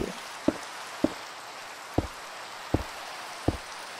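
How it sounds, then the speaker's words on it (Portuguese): Rain falls in the Minecraft video game as a soft, steady hiss, broken by five faint, evenly spaced knocking sounds close by, with no voices. "Eu não vou mudar a chuva."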